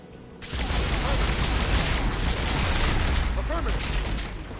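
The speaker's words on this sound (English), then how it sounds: "AA guns ahead." Anti-aircraft guns in Mass Effect 3 fire in a dense, continuous barrage after a quieter start, a loud, roaring wall of rapid blasts that holds steady for several seconds before easing slightly.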